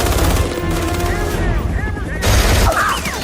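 A .50 caliber machine gun firing in an action movie scene: loud, dense continuous bursts of gunfire with heavy booming impacts and whistling streaks, intensifying toward the end, with shouted voices mixed in.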